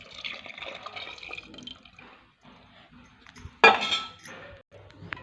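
Cooking water drained from boiled moong dal is poured into mashed lentils in a kitchen, a soft trickling splash with a sharp clink of metal or glass partway through, quiet and close.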